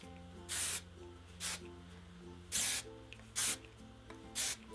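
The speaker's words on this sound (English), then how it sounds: "Hairspray underneath wherever I want the extra volume, so it stays." Hairspray bursts from a can underneath lifted hair to add volume, five short, close hissing sprays at uneven intervals over a low background hum, with no talking.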